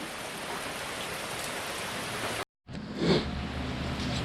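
Heavy rain pours down in Hokkaido, Japan, a steady dense hiss of drops on wet ground and puddles, briefly cut off, then returning loud and close.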